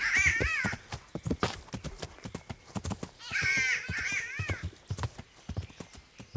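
In the medieval video game Kingdom Come: Deliverance, a bird gives two bursts of harsh, strained cawing over steady horse hoofbeats clip-clopping along at a trot.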